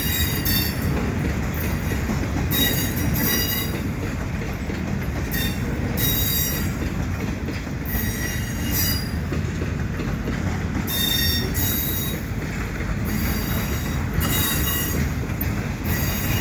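A CN welded-rail work train backs slowly through Dorval in winter, its wheels squealing in sharp, repeated high-pitched bursts over a steady, loud rumble of rolling railcars, with no voices.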